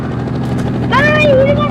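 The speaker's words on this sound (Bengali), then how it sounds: "আরে ভাই হেলিকপ্টার আসছে" A video game helicopter approaches as a steady, loud rotor drone with a rising whine, and a voice talks over it.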